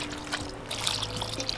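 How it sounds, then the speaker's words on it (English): Water poured into a bowl of mashed wild fruit pulp, a steady splashing trickle running through the whole moment, close and fairly loud with a brief stronger gush partway. "Sailor, pour that water in there"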